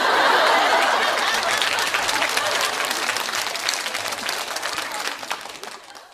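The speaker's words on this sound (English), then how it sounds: "Yeah, that's an applause right here." A studio audience gives a warm round of applause for guest Sarah Hanson, with steady dense clapping, some chuckles and crowd murmur, slowly tapering off toward the end.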